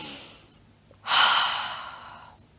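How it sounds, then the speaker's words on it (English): During a guided meditation a single deep breath follows a faint earlier exhale: a quiet pause, then a loud, close, breathy exhale that slowly fades. "Take a big breath."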